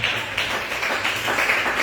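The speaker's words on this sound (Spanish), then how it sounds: "denle un buen aplauso al Señor." A church congregation applauding, a continuous close wash of clapping that stays fairly loud throughout.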